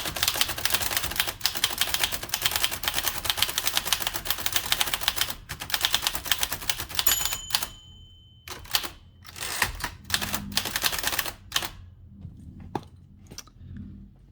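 A 1947–1949 Adler Favorit 2 thrust-action typewriter is typed on with its cover removed, rapid dense keystrikes at close range, then sparser clacks and a carriage bell ding with pauses between strikes.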